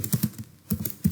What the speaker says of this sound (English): here I am typing my message